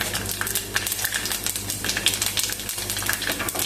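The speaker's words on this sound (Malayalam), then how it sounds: "നമ്മുടെ കടുക് പൊട്ടി വരുന്നുണ്ട്" Dense, irregular crackling and sharp pops of mustard seeds spattering in hot oil, steady and close, with a low hum underneath, while cooking beef peralan.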